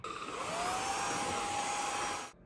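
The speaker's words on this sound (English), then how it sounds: "it is a stick vacuum" A eufy E20 3-in-1 stick vacuum cleaner runs close by with a steady, high whining hum for a couple of seconds, then cuts off abruptly.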